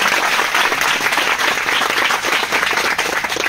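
Steady audience applause at a Haryana Police joining meeting, a dense unbroken wash of many hands clapping, loud and close, running throughout without any voices over it.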